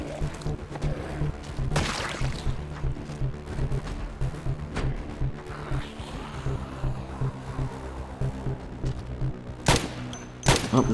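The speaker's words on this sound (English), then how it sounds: "this is what I get for putting a long-range scope on a rifle when I'm just shooting someone right in front of me" Rifle fire in the zombie survival game Project Zomboid, a few sharp close shots cracking over a busy game soundscape, with two loud reports near the end.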